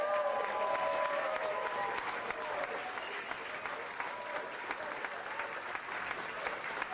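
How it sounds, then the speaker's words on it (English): A large crowd at a live presidential event gives sustained applause, a broad even roar of clapping heard from a distance, with a faint voice briefly over it at the start. "Susie deserves a great round of applause."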